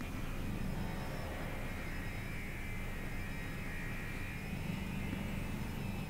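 Spaceship engines drone at full power in the game Elite: Dangerous, a steady, even roar with a faint high whine laid over it, sustained without a break at a moderate level.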